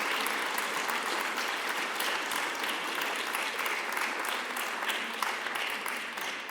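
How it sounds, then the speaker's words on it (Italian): A lecture audience at a festival talk on just and unjust wars applauds with dense, sustained clapping that stays steady and fairly loud for several seconds. "applausi al professor Walzer"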